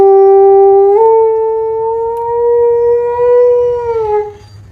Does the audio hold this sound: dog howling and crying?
yes